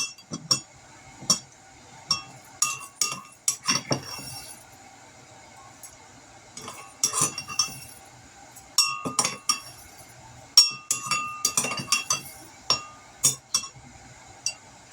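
Rice is poured into a fabric weight, a mix of long grain and jasmine, in a series of light clinks, rattles and rustles coming in irregular bursts with quiet gaps, close and soft.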